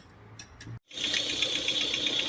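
Running Peugeot 408 engine with the timing belt cover removed, giving a steady close mechanical whir with a fast ticking, ratchet-like rattle; a short click and a brief dropout come just before the noise settles into a continuous drone.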